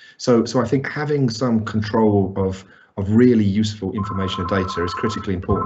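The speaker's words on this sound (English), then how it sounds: "that's my phone going off" A mobile phone rings in the later part of the clip as a steady electronic tone, quieter than a voice and running under his continuous talk.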